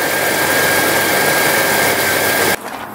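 A 1998 Jeep TJ engine runs with a replacement alternator, giving a loud, steady idle drone with a constant high whine up close, then cutting off abruptly near the end.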